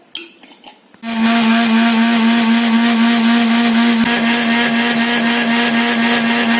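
A kitchen mixer grinder starts after a second of quiet and whirs loudly and steadily at close range, blending cooked pineapple with cold water into a smooth panna drink.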